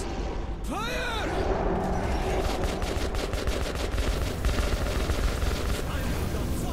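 Gunfire in Metro 2033 Redux: loud, dense sustained automatic shots with booming impacts running continuously under a chaotic, noisy mix, with a shouted voice near the start.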